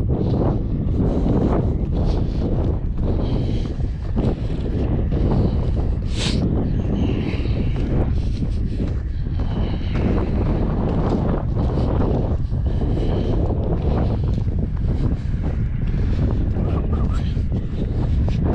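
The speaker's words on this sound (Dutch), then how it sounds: "De wind kijkt niks aan doen" Strong wind buffets the microphone of an action camera outdoors while walking, a loud continuous roaring rumble with gusting surges throughout and no clear talk.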